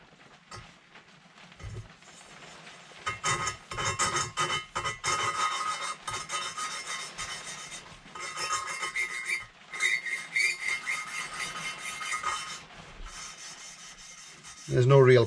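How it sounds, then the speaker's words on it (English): A valve is lapped into its seat on a Kawasaki Zephyr 750 cylinder head, giving soft repeated gritty rubbing and rasping strokes in bursts with short pauses, close and fairly quiet. "There's no real pressure, just let it sit in its seat and give it a little rub."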